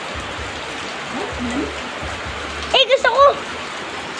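Steady rain hiss fills the background throughout, with a short burst of speech near the end.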